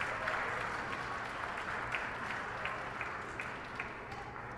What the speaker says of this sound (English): So please applaud Doktung